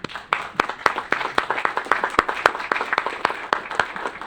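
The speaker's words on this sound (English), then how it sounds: "Okay, you can clap." A small group at a city council meeting claps. The individual, crisp hand claps are clearly separated and come in a fairly steady rhythm, close to the mic.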